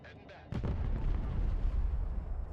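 Bombs from an air strike in the Broken Arrow strategy game burst in a heavy, rumbling series, with a sharp hit followed by sustained low booming and crackle. A voice talks over the blasts.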